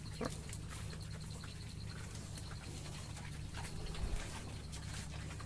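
Piglets on a pig farm, faint grunting and snuffling noises over a steady low background hum, with a slightly louder cluster of grunts near the end; no talking.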